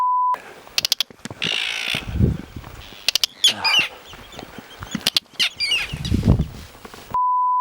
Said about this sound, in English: Arctic terns.